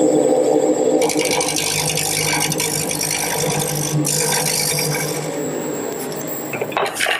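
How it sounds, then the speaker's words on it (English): A parting tool cleans up a wood turning on a lathe in a workshop, giving a steady, close, raspy scraping whir that runs continuously for about seven seconds with small shifts in pitch and a brief rougher burst near the end. "For this last portion, I'm going to use my parting tool to clean it up."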